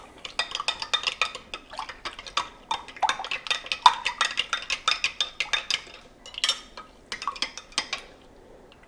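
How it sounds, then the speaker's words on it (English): A spoon stirs BBQ rub into liquid for pulled pork, making rapid, close clinking and scraping strokes against the bowl that repeat steadily for several seconds before easing off. "Now we have a spoon, just going to mix this up."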